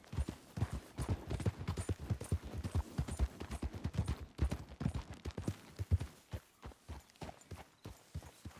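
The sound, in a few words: horse galloping in video game Red Dead Redemption 2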